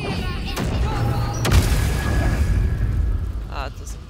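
A fire Glyph of Warding spell goes off in Baldur's Gate 3, heard as a few sharp bursts and a booming blast that fades out, with game sounds around it.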